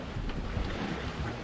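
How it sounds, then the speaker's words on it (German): A sailboat under way in a 3 to 4 Beaufort wind, heading toward Gaeta, with steady wind buffeting the microphone and water rushing past the hull, a broad, close, continuous wash. "So, ein schönes Segeln ist das."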